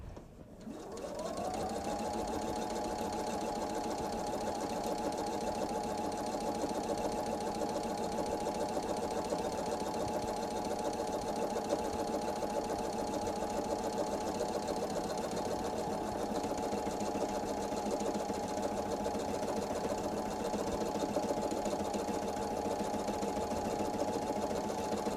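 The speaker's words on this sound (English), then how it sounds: "I pushed my start button, which makes it sew all by itself without pressing the foot pedal down" A sewing machine runs steadily on its own after the start button is pressed, a close, even whirring hum that spins up at the start and holds a constant pitch while top stitching.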